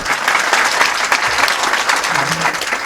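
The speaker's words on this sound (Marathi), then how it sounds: "एकदा टाळी वाजवाच महाराज तुमच्यासाठी" Steady, dense audience clapping at a Marathi social-awareness lecture, loud and continuous throughout with no talk over it.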